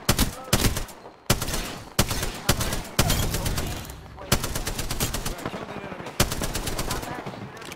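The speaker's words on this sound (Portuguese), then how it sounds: "Estão aqui aos tiros já" Gunfire in Apex Legends comes as sustained, loud bursts of rapid automatic shots with brief pauses between volleys, several weapons overlapping in a continuous firefight.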